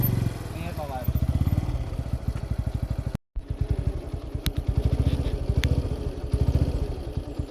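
A motorcycle moves off as its clutch is let out: the engine's pulsing thump rises and quickens, briefly cuts out, then carries on in a steady rhythmic beat close by while a person talks.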